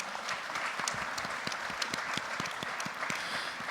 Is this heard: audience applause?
yes